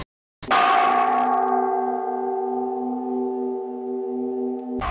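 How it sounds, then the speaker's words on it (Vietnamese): A temple bell at a monastery rings at 2 a.m., struck once loudly and then humming with a long, rich, slowly fading resonance. "Tôi thức dậy bởi tiếng chuông giữa 2 giờ sáng."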